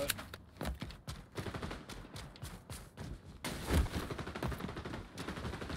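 Rapid bursts of gunfire in the shooter XDefiant, sharp, close cracks in quick volleys with a short pause before a heavier burst, fairly quiet overall with faint footsteps between the shots.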